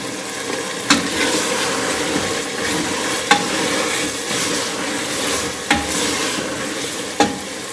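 Chickpea masala with chicken cubes sizzles in a pan, a steady frying hiss broken by several sharp clinks of a spoon stirring against the pot.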